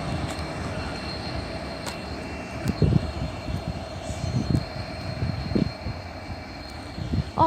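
A freight train carrying limestone bound for Port Kembla rumbles past, a steady low roar with rhythmic thumps of wagons over rail joints, distant-to-moderate and continuous with no talk.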